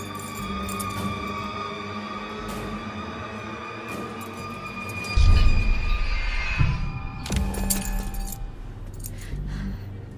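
Keys jangle in the horror game The Quarry: light metallic clinks and rattles recur over a low droning hum, with a louder thump-like burst in the middle.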